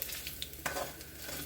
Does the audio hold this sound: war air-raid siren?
no